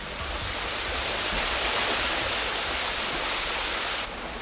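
Big Dragon Cascade waterfall in the Yandang Mountains, about 197 meters high, a steady, dense roar of falling water that fills the air without pause, broad and loud with no voices.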